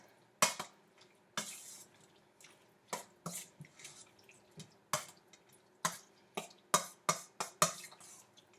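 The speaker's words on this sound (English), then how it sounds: "now I just stir it up until it's all well combined" A spoon scrapes and clinks against a bowl while bruschetta chicken mixture is stirred, producing irregular, fairly quiet taps and wet clacks close by, with no voices.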